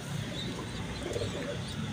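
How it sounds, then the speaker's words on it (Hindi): Soft, low cooing of Ferozepuri breed pigeons in a steady murmur, with faint background bird calls throughout; no voices. "उस्ताद राणा साहब के स्पेशल कबूतर है।"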